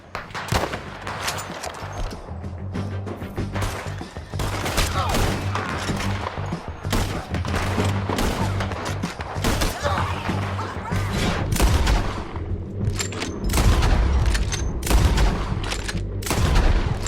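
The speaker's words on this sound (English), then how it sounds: "Let's just start shooting." Heavy gunfire from a Red Dead Redemption 2 shootout, dense volleys of shots and booms cracking continuously for the whole stretch, loud and close with a steady low rumble beneath.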